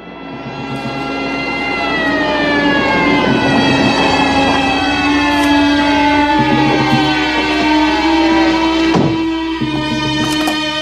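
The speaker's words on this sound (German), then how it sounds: "Die Sirene Ihres Wagens war nicht zu überhören." A wailing police car siren used as a radio-drama sound effect rises and falls in a steady cycle, loud and close, over the rumble of a vehicle engine.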